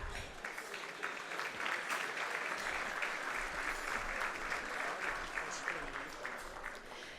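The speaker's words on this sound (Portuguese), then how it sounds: "Podem continuar com os aplausos" Steady, dense applause from a gala audience at an association's anniversary celebration, as companies are honoured, sustained and even throughout without a break.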